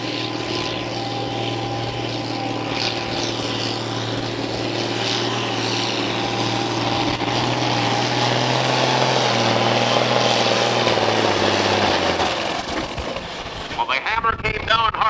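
A pulling truck at a truck and tractor pull roars at sustained full power, a loud continuous drone that builds, then cuts off near the end, with an announcer talking over it.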